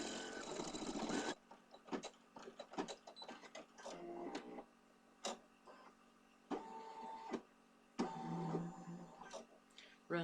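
An embroidery machine stitches the left foot of a leprechaun design in short, quiet bursts of rapid needle clatter, broken by brief pauses and scattered clicks between runs.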